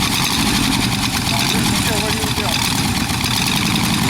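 A rat rod's engine idles steadily and close, a loud continuous mid-low rumble with a slight wavering note partway through, running on without pause.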